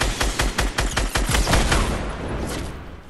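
Rapid bursts of gunfire from the Fortnite video game, a run of sharp evenly spaced shots for about two seconds, then a denser rattle that fades into a lingering wash, loud and close with no talk.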